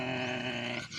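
A voice imitates a dog, giving a short, rough growling bark that is close and steady, then briefly dips at the end.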